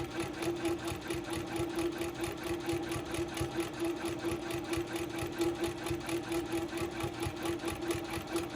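A home sewing machine stitches feather motifs on a Christmas quilt, its motor humming steadily with a fast, even needle rhythm that holds close and constant throughout, with no talk over it.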